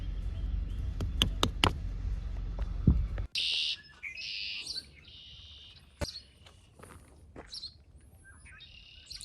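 A red-winged blackbird sings outdoors: after a loud burst of close handling knocks, several clear, high, repeated calls and trills ring out at moderate distance, with a few sharp clicks between them.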